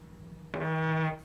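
LG V60 T-Mobile smartphone vibrating strongly: one buzzing burst of about half a second, starting abruptly and stopping sharply, close and fairly loud, with nothing else heard.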